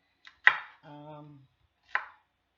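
A knife chops vegetables such as radishes, green onions, celery and peppers on a board, with a few sharp, close, separate chopping knocks in an otherwise quiet kitchen.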